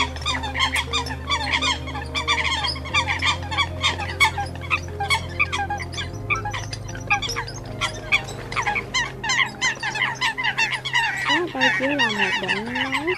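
Repeated calls of a female coot crying in distress as if separated from its flock, a bird-trapping lure recording; loud, close, rapid honking and squawking calls fill the track continuously over a low steady hum.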